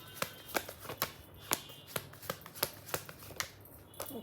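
Tarot cards are shuffled close by in a quiet room, a series of sharp, crisp riffles and flicks falling in a loose, uneven rhythm with no talking.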